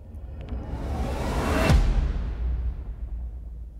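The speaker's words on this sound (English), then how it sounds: "So this is a massive whoosh with a hit at the end." A designed sound effect from the Vir2 Phoenix software: a massive whoosh that swells in loudness, then ends in a deep, heavy hit, followed by a long, fading rumble tail.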